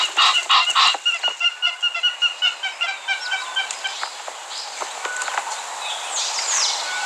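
An Egyptian goose honks repeatedly in a fast rhythmic series of loud calls, then trails into softer scattered bird calls and rustling.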